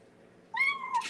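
A cat meows twice at close range, a drawn-out rising-falling call followed by a shorter one, in a quiet indoor room with no talking.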